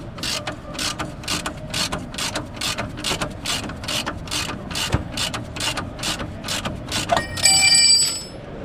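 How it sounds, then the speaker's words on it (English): A ratcheting ring spanner turns a 14mm wishbone bolt on a Mk1 MX-5 suspension: a rapid, even series of close metallic clicks, ending in a brief ringing clank. "Your ring spanner should roll round and lock up on the wishbone."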